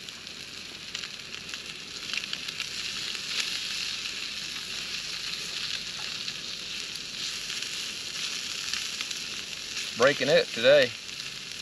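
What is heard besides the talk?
fish frying in a hot skillet outdoors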